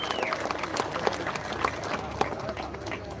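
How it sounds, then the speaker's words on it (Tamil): Audience clapping at a Tamil political party meeting, honoring a state party speaker, a continuous crackle of hands with a few sharper claps and some crowd murmur beneath. "கரகோஷத்துடன் நன்றியை தெரிவித்துக் கொள்வோம்."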